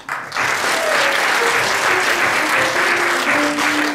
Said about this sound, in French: Je vous demande d'applaudir monsieur Francis.